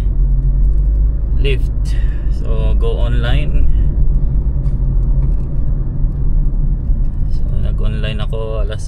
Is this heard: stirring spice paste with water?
no